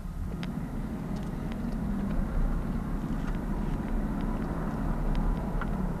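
A Jaguar XJS V12 HE convertible cruising along a sunny road, a steady low engine drone and road rumble that stays even and close throughout, with no voices.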